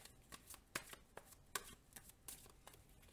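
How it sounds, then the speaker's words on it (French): Tarot cards being shuffled by hand, a quiet, close series of soft riffling and slapping bursts in an irregular rhythm, with no talking. "Donc je mélange les cartes."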